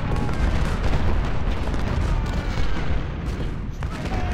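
Cannon artillery fire in the Civil War strategy game Ultimate General at the Battle of Gettysburg: loud, continuous rumbling booms and overlapping blasts roll through the whole stretch.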